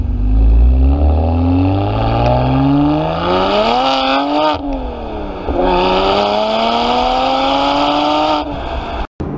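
A BMW 1M accelerates hard through the gears, engine note rising in long sweeps with brief dips at each shift, loud and close from inside the car with no talk.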